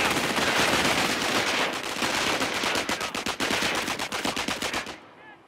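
Sustained MG-42 machine gun fire in the Company of Heroes: Tales of Valor game, Falaise Pocket battle, with rapid dense bursts, then distinct separated shots before cutting off abruptly, loud and close, no speech.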